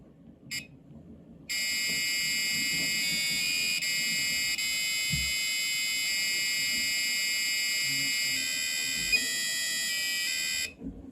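A piercing electronic Arduino buzzer plays the Korean song Spring in My Hometown in steady beeping notes, loud and continuous, then cuts off abruptly at a rest.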